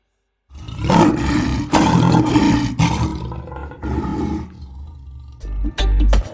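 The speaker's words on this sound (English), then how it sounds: "Lion voice." Lion roaring in a series of loud, close bursts, several long rumbling roars followed by shorter grunting calls, with no talk over them.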